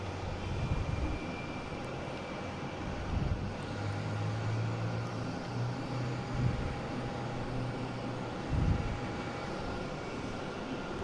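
An airliner in retro America West livery landing on runway 4 right at Boston Logan, a steady broad engine roar at moderate distance with a low rumble underneath and occasional louder swells.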